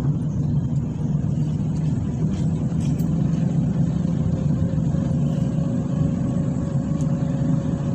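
A car engine drones steadily from inside the cabin during a driving lesson, a low, even rumble with slight shifts in tone as gears change, and no voices.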